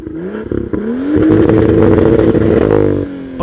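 A BMW M2 engine in Forza Horizon 5 revs loudly and close, its droning pitch climbing and holding steady, then easing off with a rough clattering edge near the end.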